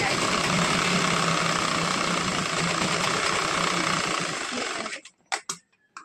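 A sewing machine stitches blouse fabric for a princess-cut blouse in one loud, continuous, close run that stops near the five-second mark, leaving a few sharp clicks of handling.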